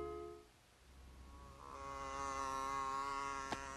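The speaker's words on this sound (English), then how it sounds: "Fly goes by." A cartoon housefly buzzes past, a thin droning tone that swells in loudness and pitch as it approaches, holding close for a couple of seconds.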